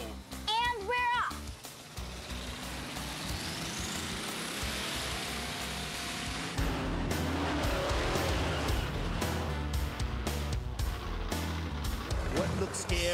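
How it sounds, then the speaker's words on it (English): Monster truck driving in the Hard Hat Harry video game, a continuous revving engine roar with skidding tire squeals, mixed under an electronic game soundtrack and talking. "It's a mighty mega monster truck."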